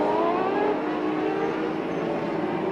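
A 20-car field of sports racing cars accelerates together at the green-light start at Kyalami, a loud, dense engine roar with rising pitch that holds steady throughout, no voices.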